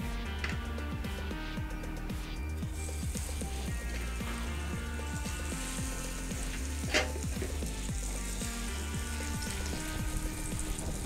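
Bottle gourd paplet (lauki ki paplet) frying in hot oil, a steady continuous sizzle with crackling and a few light scrapes or stirs, fairly close and consistent throughout with no talking.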